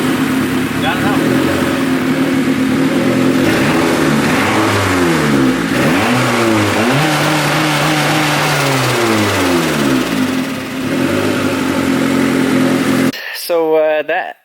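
Turbocharged Honda Civic engine revving repeatedly during its first drive after a build, rising and falling in pitch, loud and close throughout, ending with a brief burst near the end.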